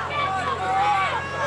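Crowd at the Marshfield Fair in 2008 booing a wrestler, a steady loud babble of many voices rising and falling across the whole moment, with no clear single speaker standing out.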